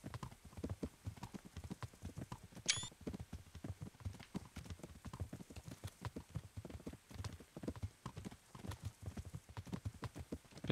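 Horse hooves gallop in the Kingdom Come Deliverance video game, a quiet, fast, continuous clip-clop rhythm of hoofbeats that runs throughout.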